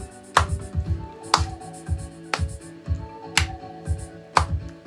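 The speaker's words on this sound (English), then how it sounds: "Let's have a little" Sharp hand claps or snaps land in an even, repeating pattern about once a second across five seconds, close and crisp, with a low rhythmic thumping beneath them and no talking.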